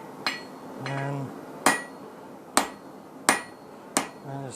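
A hammer forges a metal leaf on an anvil, landing about five sharp, ringing blows at uneven intervals, close and loud, with a softer lingering ring between strikes.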